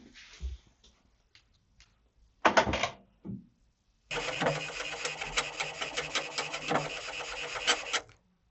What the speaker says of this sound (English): Tap on print and let the printer to do its job.